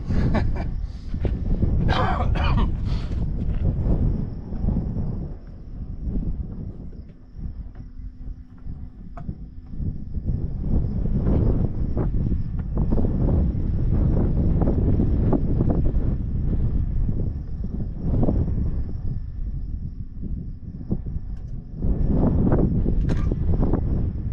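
Outdoor wind buffets the microphone in heavy, rumbling gusts that rise and fall throughout, with a faint steady whine in the background.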